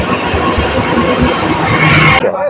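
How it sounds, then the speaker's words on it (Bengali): A train pulling into Bishalpara station makes a loud, close, continuous rumble and rattle that cuts off abruptly near the end. "ট্রেন ঢুকছে দেখতে পেলেন বিশালপাড়া স্টেশন"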